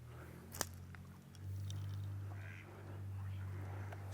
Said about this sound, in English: Spooked all the ducks down here,